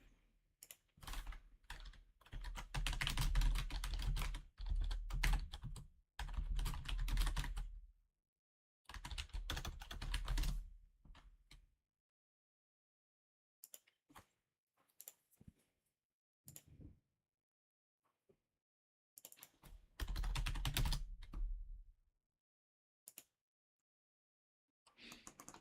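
Typing on a computer keyboard while entering music software commands, in several bursts of rapid close clicking separated by pauses and a few isolated taps.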